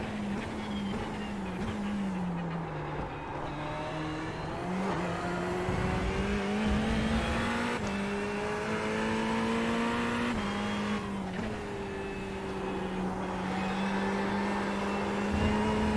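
A GT3 race car engine in a racing video game drones steadily and loudly, revving up and down through gear changes with a continuous whine, no talk over it.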